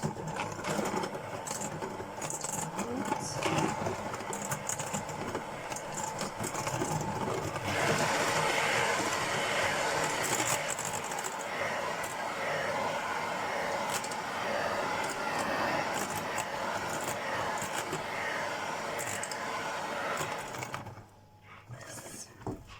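An electric mixer beats eggs and milk into marble cake batter, a continuous whirring motor buzz with a rattling edge, close and steady for about twenty seconds before it cuts off.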